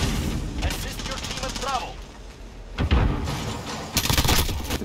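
Shotgun blasts in Call of Duty Modern Warfare, a 12 gauge Deputy attachment, booming in a few bursts amid dense game gunfire and explosions, with people talking over it.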